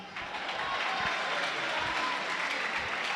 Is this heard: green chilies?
no